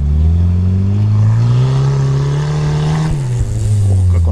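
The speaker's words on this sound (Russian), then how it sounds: "УАЗа едут, интересно." UAZ off-road vehicles driving on a rough, muddy track, their engines droning loud and steady with a rising rev, close by and continuous.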